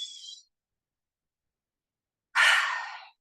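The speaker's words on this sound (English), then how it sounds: "Breathe in and hold and exhale." A slow, breathy exhale during a yoga session, a soft airy rush of breath close to the microphone after a short silence.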